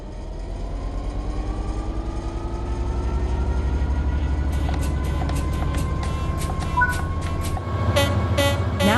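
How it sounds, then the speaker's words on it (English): A train in Train Sim World 3 pulls away from a standstill, its engine hum and rising whine building steadily, with rhythmic clicks and clatter of wheels over rail joints appearing as it gathers speed; no talk. "Apply some throttle to get the train moving."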